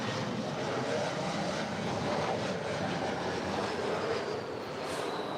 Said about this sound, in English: Here we have a 3-year-old Embraer E175LL coming in from Sacramento. It's Delta Connection Flight 3592.